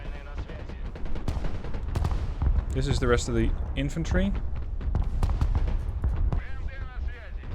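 Battlefield gunfire and artillery in the real-time strategy game Broken Arrow, scattered shots and booms throughout while someone talks over the fighting.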